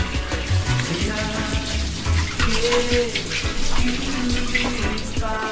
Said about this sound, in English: And always remember, wash your hands.